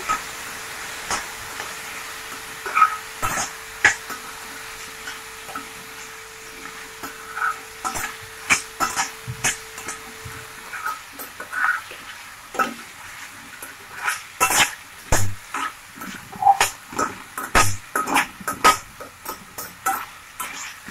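Raw green banana pieces sautéing in hot oil in a pan, a steady sizzle broken by repeated scraping stirs and spatula knocks that grow busier toward the end, close and fairly loud with no talking.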